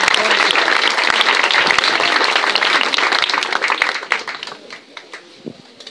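A crowd applauding loudly at an athletics club gathering, dense clapping that gradually thins and fades toward the end.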